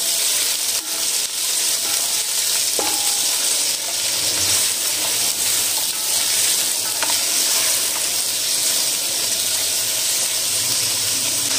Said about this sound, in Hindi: मिक्स कर लेंगे और इसके साथ इसको थोड़ा सा फ्राई कर लेंगे।